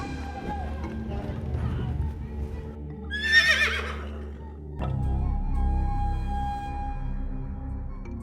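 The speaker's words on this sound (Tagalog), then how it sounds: "Nakita ko lang yung kabayo niya" A riderless palomino horse on a dusty racetrack bend gives one loud, shrill whinny in the middle. Low rumbling and hoofbeat-like movement fill the rest, and a voice is heard.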